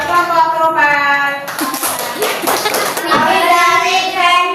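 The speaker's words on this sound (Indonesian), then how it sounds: "Beri tepuk tangan buat kelompok Tropel" Children in a classroom clap together for a group, a burst of brisk applause rising between stretches of sustained voices.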